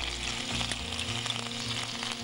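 Chopped ginger frying in hot oil, giving a dense, continuous crackling sizzle with a few sharper pops, close and steady throughout, and no one speaking.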